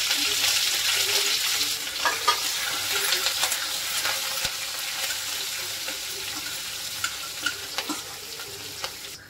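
Green chili and curry leaves sizzle and crackle steadily in hot oil for sev upma, with a few sharp pops and a spoon stirring the pan close by.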